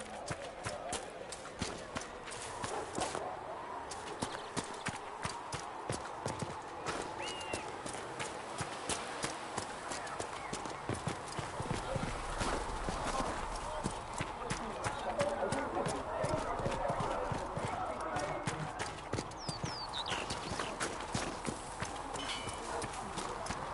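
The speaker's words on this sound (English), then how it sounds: "Have you seen the horses Master Dennett sent the Inquisition" Steady clip-clopping of horse hooves on a hard surface in the video game Dragon Age: Inquisition, continuous and fairly close, with ambient outdoor noise and faint background murmur.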